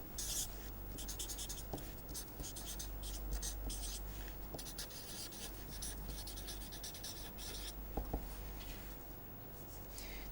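A pen or chalk sketching a magnitude response plot, scratchy writing strokes in short repeated bursts, close and steady over a low hum, with no talk.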